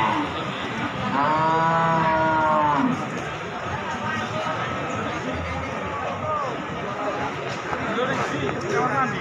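Jumbo Limousin cattle at the Jatirogo livestock market in East Java, where one loud, drawn-out moo rises close by over a busy background of crowd chatter and the market's bustle.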